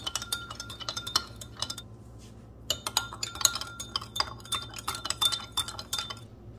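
A spoon stirring sugar into wine in a wine glass, with rapid bright clinks against the glass in two bursts split by a short pause, close and clear, without talk.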